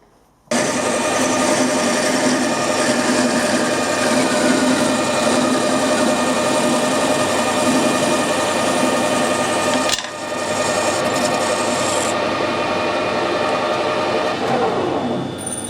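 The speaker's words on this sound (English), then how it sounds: "So I'll put that in the lathe and machine a plug from that." Lathe machining a plug from a piece of good-quality aluminium arm, starting abruptly into a loud steady whirring hum with a brief dip partway, then continuing close and constant without talk.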